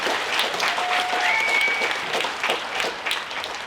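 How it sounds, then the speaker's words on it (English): Steady audience applause at a lab coat ceremony, dense clapping from a crowd that holds at an even level with no talk. "Y'all can clap for that."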